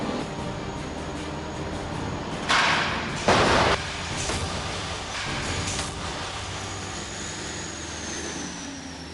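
School bus crash test against an obstacle at 35 km/h, simulating an urban accident after emergency braking: a steady mechanical roar broken by a couple of sharp, loud impact thuds near the middle.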